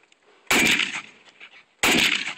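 Two loud, sharp rifle shots from a Saiga AK in 7.62x39 ring out about a second and a half apart on an outdoor running shooting course, each blast followed by a short echoing tail.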